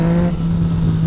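A 2014 Yamaha MT-09 motorcycle engine pulls hard under acceleration, a loud, steady, close-up drone with a strong humming tone.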